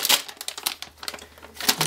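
A Ziploc plastic bag holding a PCIe 4.0 riser cable crinkles in quick, irregular bursts of rustling close to the microphone, with no talking.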